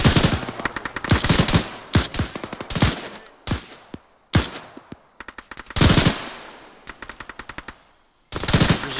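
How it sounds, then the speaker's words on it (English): Heavy machine gun fire in a war video game, loud close rattling bursts repeating in long and short strings with brief pauses between them, some echoing tails, no talking. "Presume that's him shooting up them Charlies over there."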